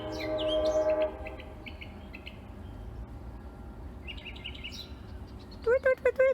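Birds call outdoors after a storm, with short chirps and whistles scattered across the clip, and a loud burst of song near the end. A low background rumble sits underneath, and a humming voice briefly imitates the birds at the start.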